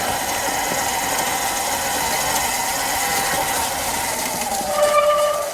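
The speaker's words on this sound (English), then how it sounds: "I'm spinning out in somebody's yard" A Kuberg Freerider electric dirt bike whines with a steady high motor drone as its rear wheel spins out on a grassy backyard, loud and close, swelling briefly near the end.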